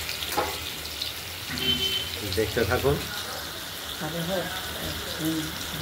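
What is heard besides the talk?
stuffed ash gourd slices frying in oil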